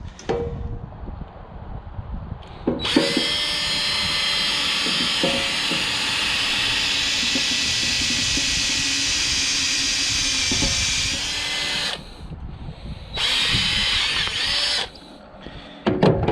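A loud, steady power drill whirs continuously for about nine seconds while drilling copper tubing, stops briefly, then runs again in short bursts, harsh and close.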